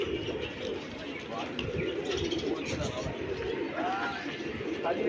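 Flying pigeons kept by a pigeon fancier coo softly and repeatedly amid steady background noise, with someone talking over them.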